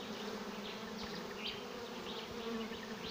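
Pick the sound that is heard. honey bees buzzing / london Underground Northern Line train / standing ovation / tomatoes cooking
honey bees buzzing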